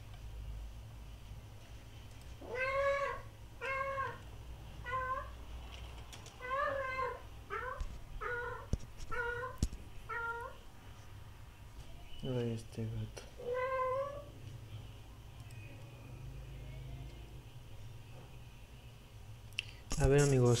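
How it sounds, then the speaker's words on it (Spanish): Pet cat meowing indoors: a run of short, rising meows in quick succession, then a few longer drawn-out calls, fairly faint over a steady background hum. "Ay, Gaspar, no me digas que vas a empezar a maullar como ayer."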